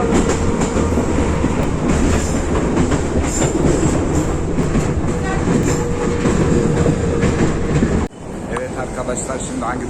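Kyiv metro train running toward the end station near Lisova market, a loud steady rumble with rhythmic wheel clatter that drops abruptly near the end, with voices faintly present.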